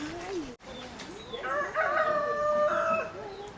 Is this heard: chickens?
yes